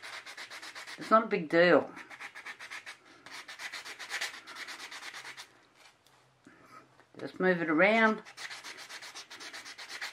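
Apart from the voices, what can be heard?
sanding resin pieces by hand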